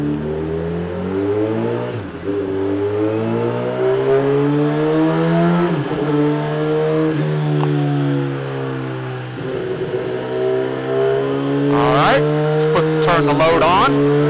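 A 2017 Suzuki GSX-R1000 roars on a dyno in third gear. The engine revs climb and fall steadily in a loud, sustained near howl, with sharp bursts near the end.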